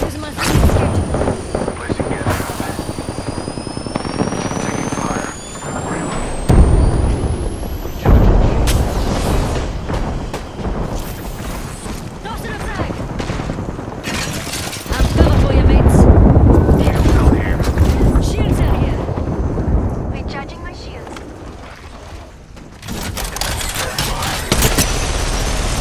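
Gunfire in Apex Legends, scattered loud shots and booming impacts mixed with game effects and a rising whistle, near and heavy at times, with voices talking throughout.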